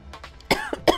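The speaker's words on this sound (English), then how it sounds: "That was a natural cough, but it came at the right time." A single person lets out natural coughs, two sharp bursts close to the listener after a few softer breathy sounds, brief and abrupt with no speech.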